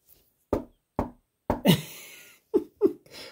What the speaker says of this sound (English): Knock 3 times.